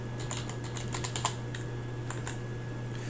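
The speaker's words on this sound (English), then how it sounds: "Let's type in latitude." Rapid, light clicking of a computer keyboard as a word is typed, a close run of keystrokes over a constant low electrical hum, with no voices.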